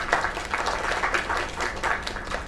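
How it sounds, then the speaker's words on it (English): Steady applause from a crowd in a video game, continuous clapping and light cheering for a few seconds at moderate volume. "Another round of applause."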